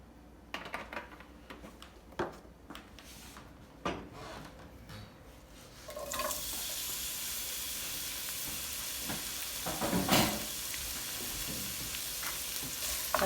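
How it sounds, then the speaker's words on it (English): Onion hitting a hot pan: a few quiet clinks and stirring knocks, then a loud, steady broadband sizzle that holds to the end with occasional louder crackles. "But we'll start with a hot pan in our onion."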